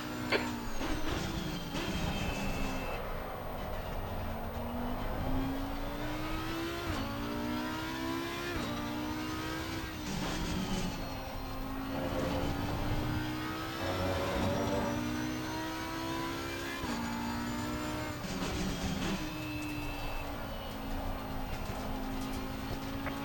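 An Audi R8 Evo2 race car in Assetto Corsa Competizione at Brands Hatch sounds a steady, near engine note that climbs through the revs and drops sharply at each gear change, repeating lap-long without speech.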